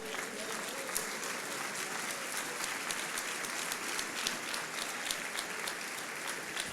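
A church congregation at a prayer service applauds together, with steady, fairly faint clapping continuing throughout, a few louder individual claps standing out, and scattered voices mixed in.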